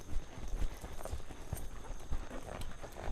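Horse hooves clip-clopping in a steady rhythm under a rider doing garrocha pole work, continuous and moderately close with a noisy outdoor background.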